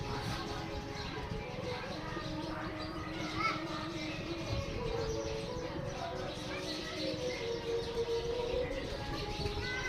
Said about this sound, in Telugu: మా ఇంటి దగ్గరే వేప చెట్టుపై ఉన్నటువంటి పక్షుల కిలకిలా రాగాలండి ఇవి